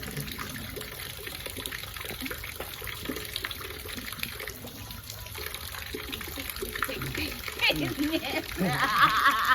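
Water splashes steadily from the frog fountain on the ViSCA-VSU campus during the centennial anniversary, forming a continuous outdoor wash under nearby people talking.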